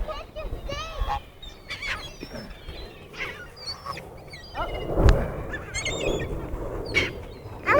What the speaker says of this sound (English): Oh my God, look at all these birds.